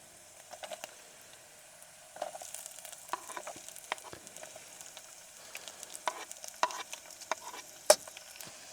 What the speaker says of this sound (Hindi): तो मैं अब डाल देता हूँ इसके अंदर प्याज